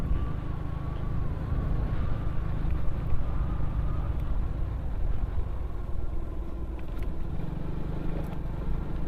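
A vehicle passing on a road near Tagaytay, a steady low engine rumble with road noise that holds fairly constant throughout, with faint ambient sounds behind it.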